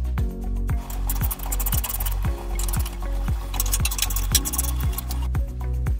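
Ratchet wrench loosening 9/16 bolts on a load cell enclosure cover, steady rapid clicking of the pawl in repeated strokes, close and fairly loud with no talk.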